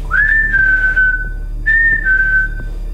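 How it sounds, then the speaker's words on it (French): A person whistles two drawn-out notes, each sliding slightly downward, with a short pause between them. "Essaye de siffler à nouveau"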